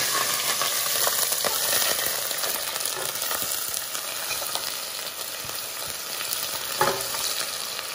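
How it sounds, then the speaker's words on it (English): Chopped onions fry in a big pan of generously poured hot oil, a steady close sizzle running the whole time with a brief sharper crackle near the end. "I'm going to be adding the chopped onions."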